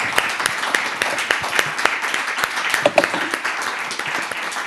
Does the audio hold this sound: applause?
yes